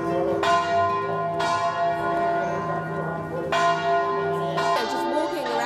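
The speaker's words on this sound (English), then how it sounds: "hearing the sound of the bells" Church bells ring out across Ciutadella old town in Menorca, four clear resonant strikes spaced a second or two apart with long ringing overtones hanging between them, open and alone.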